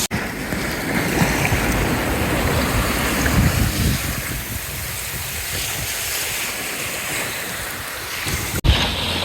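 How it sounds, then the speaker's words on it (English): A boat's motor drones steadily while cruising along the Queensland coast from Mooloolaba toward Double Island Point, blended with broadband wind and water noise in a continuous, moderately loud wash. "Just listening to the droning of this motor, imagine putting up with that all day."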